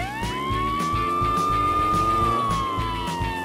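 A cartoon police car siren wails steadily in a chase, its rising and falling tone loud and continuous over a busy engine rumble.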